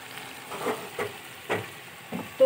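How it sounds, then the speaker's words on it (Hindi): Turnips fry in a pan for a Punjabi shaljam meat dish, a low, soft sizzle broken by several short stirring scrapes, ending in a louder knock. "शलजम को भी इसमें तकरीबन 5 से 6 मिनट तक भूनेंगे"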